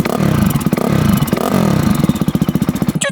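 A supermoto motorcycle, tuned to about 100 horsepower, cranks and fires into close, loud revving, its engine rising and falling in rapid pulsing throttle blips before a sharp clatter at the end.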